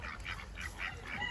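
Several ducks in a backyard flock kept with chickens, a run of repeated nasal quacks and honks, close and fairly loud, in quick irregular succession with no talk.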